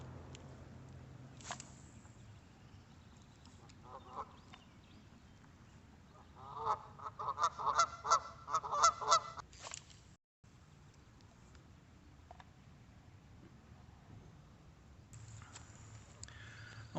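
Geese honk in a distant waterside setting, a burst of repeated nasal honks clustered over a few seconds amid faint background calls and low ambient noise.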